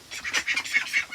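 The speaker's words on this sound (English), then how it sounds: "and then two ducks there" A pair of ducks on a farm, one of them gray, quacking loudly and close by in a quick run of about five honking calls, with no talking over them.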